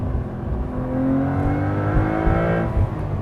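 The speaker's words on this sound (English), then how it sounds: "Give me a downshift." Interior engine drone of a manual 2025 Porsche 911 Carrera T rises briefly in a quick rev during a downshift, a steady sport exhaust hum with a whirring pitch sweep.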